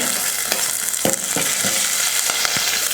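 Finely chopped green chilies hit a hot pan of roasted dal, giving a continuous close sizzle and crackle with occasional sharp taps of stirring against the pan.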